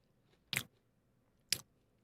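Two sharp, close crunches of a crunchy wafer being bitten, about a second apart, loud against near silence.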